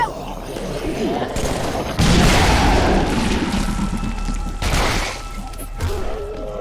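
Grenade blasts and heavy gunfire erupt in a Halo Flood firefight match, loud booms and crashing bursts layered over continuous battle noise, with voices calling out amid the chaos.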